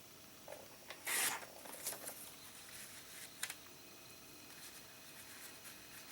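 Blade slicing through a 12x12 sheet of cardstock for a 3-D purse gift holder, a short close rasping cut followed by a few faint scrapes and taps in a quiet room.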